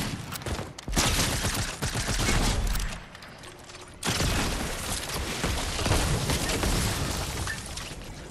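Rapid automatic gunfire and explosive bursts from a Fortnite battle, loud and dense, pausing briefly near the middle before resuming in sustained volleys, with faint voices underneath.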